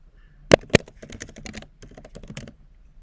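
Typing on a computer keyboard nearby, a quick run of soft key clicks through the three seconds with two sharper, louder key strikes near the start, heard alone without voices.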